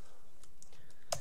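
Typing on a computer keyboard while writing Visual Basic code for a calculator program: a couple of quick, close key clicks near the end after mostly quiet room tone.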